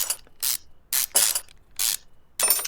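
Turbocharger bolts being removed in the Car Mechanic Simulator video game: a series of short, crisp ratcheting bursts, about six in quick succession with brief gaps, loud and close, with no talking.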